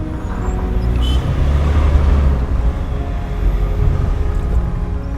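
A Mahindra Scorpio Classic SUV engine idles steadily with a deep, rumbling low-end drone, loud and close, with no talking over it.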